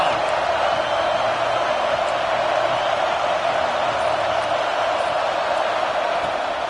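A football stadium crowd at Auburn in a video game roars as a steady, dense wash of noise, with no distinct cheers standing out.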